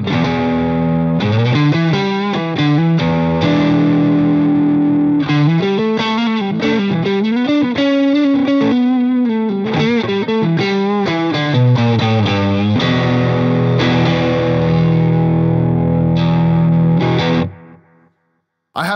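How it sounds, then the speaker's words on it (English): All-Harley Benton rig with an electric guitar through an overdrive pedal, playing a loud, close distorted lick with fast note runs and sustained bends for about seventeen seconds before cutting off, with no speech. "Let's play some overdrives."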